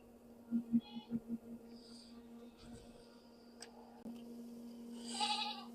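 A goat bleats in a quick series of four or five short nasal calls near the start after being dewormed, followed by quieter rustling and handling noises.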